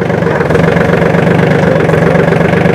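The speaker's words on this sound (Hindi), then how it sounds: "क्या शानदार तरीके से चल रहा है ट्रैक्टर, ये स्वराज टारगेट ट्रैक्टर" A Swaraj Target 630 tractor engine runs loud and close, a steady throbbing diesel chug with a rhythmic low knock that holds even throughout, with no talking.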